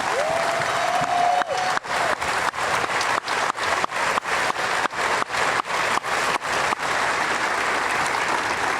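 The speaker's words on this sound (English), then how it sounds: "please join me in one more round of applause for all of the veterans here today" Crowd applause for veterans at an infantry graduation ceremony at Fort Benning, a sustained roar of many hands clapping, with a short tone at the start and a steady rhythmic thumping running beneath the middle of the applause.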